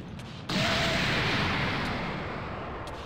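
A loud explosive blast bursts in suddenly, then sustains as a broad roaring rumble that slowly fades, from enemy soldiers attacking in a Minecraft Dragon Ball Z mod game.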